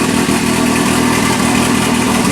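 A 1981 Alfa Romeo Spider Veloce engine idles with no exhaust past the catalytic converter, a loud raw steady throb running close and unbroken without any voices.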